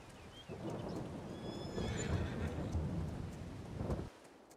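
Horses neighing and hooves in Farming Simulator 22, a continuous rumbling bed of hoofbeats and movement with faint whinny tones rising near the middle, fairly quiet and cutting off abruptly near the end.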